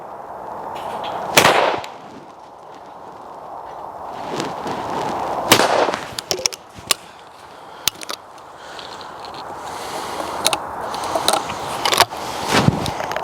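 MK38 shotgun fired at clay targets outdoors: several sharp, loud blasts spaced seconds apart, each trailing off, with faint clicks and outdoor background between shots.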